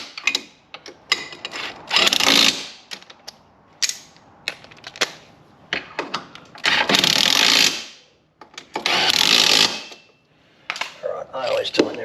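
13mm bolts being spun up by hand with a ratchet during a pump wedge install on a 2024 Ultra 310, heard as bursts of rapid clicking ratcheting separated by quiet pauses, close and fairly loud.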